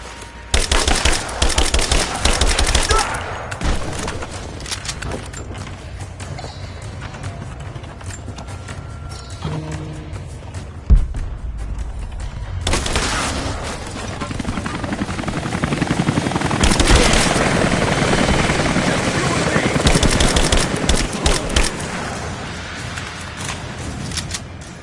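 Gunfire in Rise of the Tomb Raider: loud, dense bursts of shooting that come and go in waves, with rumbling noise between them and no clear talk.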